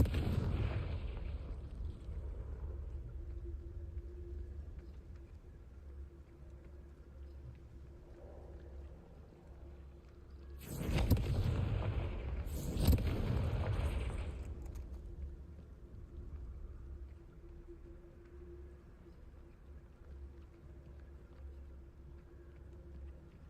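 In Hogwarts Legacy, the Confringo blasting spell goes off as two booming, rumbling explosions close together midway, rising over low game ambience; no one speaks.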